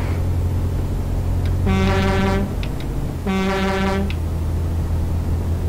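Two long, loud blasts of a deep Volvo FH12 truck horn in Euro Truck Simulator 2, each lasting about a second, with brief toots between, over a constant low engine drone.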